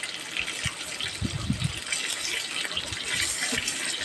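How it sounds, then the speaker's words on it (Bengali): Eggs fry in hot oil in a kadai for a Bengali egg curry, giving a close, steady sizzling hiss with a few soft pops and bubbling bursts. "ডিম ভালো করে ভেজে নেব।"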